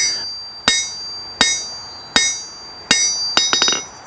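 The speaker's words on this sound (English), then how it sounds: "my hammer is actually going to bounce off the face of the anvil" A blacksmith's hammer strikes metal on an anvil during a pioneer museum demonstration, ringing out in six sharp metallic blows, evenly spaced at first and then closing into a quick rebounding cluster, with no talk.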